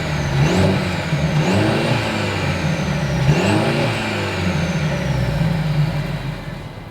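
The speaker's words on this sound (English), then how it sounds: "here is that exhaust clip" A 2023 Mercedes-Benz C300 engine rumbles loudly close by, revving up twice, with the exhaust note climbing and falling before settling back to a steady idle.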